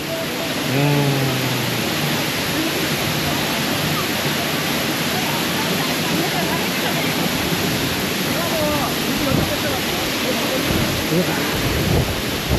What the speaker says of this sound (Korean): 물소리 때문에 들리지도 않네요